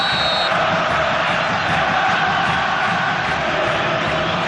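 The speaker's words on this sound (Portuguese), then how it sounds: "A torcida faz muito barulho." Loud, dense roar of a football stadium crowd at a 1998 Copa Libertadores group match between Vasco da Gama and Chivas Guadalajara, a steady wall of cheering and shouting throughout.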